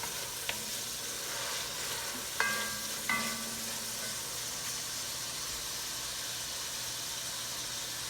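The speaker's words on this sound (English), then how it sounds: "Try to get a little caramelization on it if I can." Chicken for tetrazzini sizzles and caramelizes in a hot pan, a continuous loud frying hiss with a couple of brief utensil clinks partway through, no voices.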